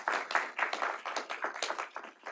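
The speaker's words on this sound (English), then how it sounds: "Quick round of applause." Audience applause at a Metro bus operator graduation ceremony, a fairly faint, steady patter of many hands clapping together in an indoor hall, with no talk over it.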